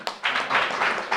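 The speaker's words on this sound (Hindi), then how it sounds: "बजाएं ताली भले हम" An audience claps together through a brief patter of hands during a spiritual class session, moderately loud and fairly close.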